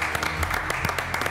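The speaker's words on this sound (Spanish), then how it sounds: "lo despedimos con un aplauso" Studio audience applause on a Spanish-language television show, a steady patter of claps at moderate level, brief and even throughout.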